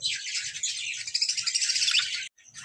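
Budgerigars in a breeding colony chirp and chatter in a dense, high, continuous warble, close by, with a brief gap near the end before the twittering resumes.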